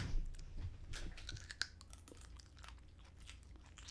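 Crunchy biting and chewing of a sweet pickled green ball, close to the mic, with a run of irregular crisp crunches and wet mouth sounds over several seconds and no talking.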